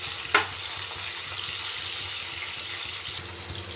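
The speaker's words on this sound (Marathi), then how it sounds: "टोमॅटो पण फ्राय करायचे त्यातच।" Onion and tomato frying in a pan for Maharashtrian upma: a soft, continuous sizzle with a brief sharp clink near the start, faint and steady.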